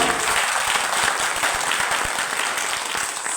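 Audience applause from a seated crowd at a motivational talk, a dense, steady patter of many hands clapping together at close range, sustained throughout with no voices.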